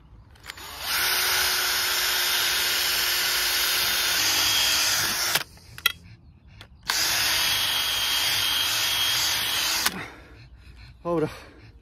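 Two long bursts from a power drill boring a hole with a worn-out bit while repairing a garden swing, loud and close, separated by a short pause and followed by handling noise.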